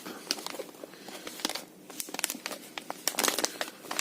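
Plastic packaging crinkles and tears as it is opened up close, a series of sharp irregular crackles and rustles.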